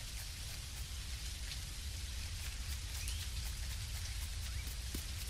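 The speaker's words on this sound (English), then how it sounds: "I'm not too sure about having it rain all across the island" Steady rain falls across an island in the game Dinkum, a constant close hiss of drops with no gaps or talk.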